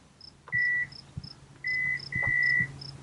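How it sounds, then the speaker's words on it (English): A 2015 Hyundai Santa Fe Limited gives three clear electronic beeps, one short and two longer, as the key fob approaches, over a quiet outdoor background with faint repeating chirps. "you'll hear a beep"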